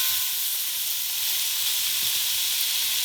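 Cauliflower frying in a pan, a steady close sizzle and hiss running evenly throughout with no talk over it.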